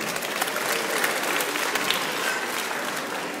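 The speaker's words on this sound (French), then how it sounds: "On peut l'applaudir." Audience applause at an animal show in a cinema, a dense, even wash of many clapping hands filling the hall without a break.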